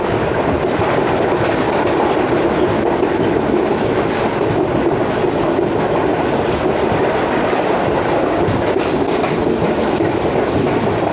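Train passing through Mandra Junction on the 8DN Tezgam between Rawalpindi and Lahore, heard from inside an old AC sleeper coach as a loud, continuous rumble with rattling wheel clatter throughout.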